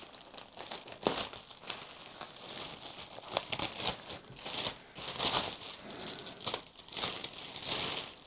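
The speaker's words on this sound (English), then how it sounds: "We need to get into the plastic." Plastic packaging around an Omhu CPH Teddy ottoman pouf is crinkled and torn open during unboxing, with repeated close, loud rustling bursts and ripping through the whole stretch and no talk.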